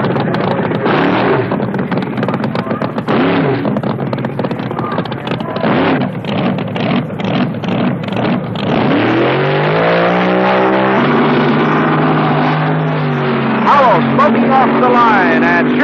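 Loud 1970 NHRA funny cars launch and roar, engines revving hard with rising, whining pitch as they pull away.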